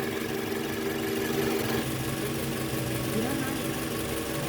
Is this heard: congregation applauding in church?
no